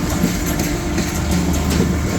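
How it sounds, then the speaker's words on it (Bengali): Titumir Express passenger train passing close by at a station in Natore on its way from Rajshahi, a loud, steady rumble of wheels and carriages with faint rhythmic clatter, no talk. "এটা হলো তিতুমির এক্সপ্রেস। রাজশাহী থেকে চলে যাচ্ছে সৈয়দপুর চিলাহাটি।"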